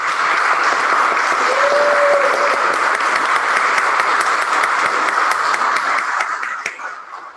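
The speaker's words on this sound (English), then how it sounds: "Round of applause for our graduates." An outdoor crowd at a June 2021 graduation of the North Bennet Street School applauds the graduates, sustained dense clapping that holds steady for several seconds before tapering off at the end.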